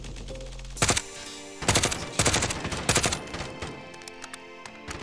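Automatic weapon fire in the military shooter game Squad, several close bursts of gunshots in quick succession with sharp repeated cracks, followed by fainter scattered single shots.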